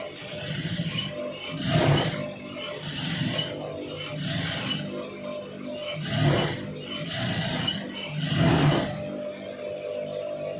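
A sewing machine stitches a neck piece in about six short whirring bursts separated by brief pauses, each run loud and close with a rhythmic mechanical clatter.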